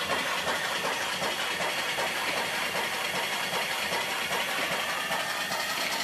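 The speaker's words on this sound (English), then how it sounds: "Real nice engine." A small twin-cylinder steam engine with reverse gear runs steadily off a small boat boiler, giving a dense, continuous mechanical chuffing and hiss that stays close and even throughout with no talk.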